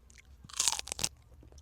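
Someone chews leaf stems at a solo bush campsite, making a couple of loud, close, crunchy bites followed by softer chewing.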